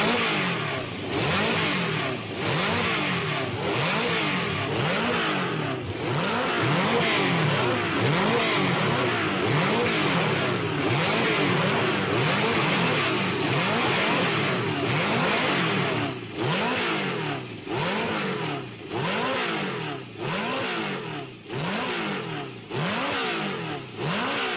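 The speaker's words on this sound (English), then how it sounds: "The short 3-litre V8 engine, cast in aluminium alloy and developing 410 brake horsepower, was an integral part of the whole car." Lotus 49 race cars with 3-litre Ford aluminium V8 engines at the 1967 Dutch Grand Prix rev hard and accelerate repeatedly, loud high-pitched engine wails sweeping up and down, with cars passing close by.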